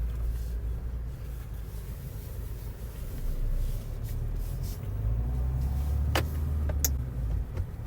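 A Mahindra Thar cruises along a highway, giving a steady low engine and road rumble with wind and tyre noise inside the cabin and a few faint clicks and rattles.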